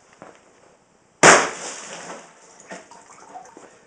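A sharp, loud crack from a supercharged big bore air rifle firing a 55 grain .308 hollow point into a water jug, followed by a splashing burst that trails off over a couple of seconds.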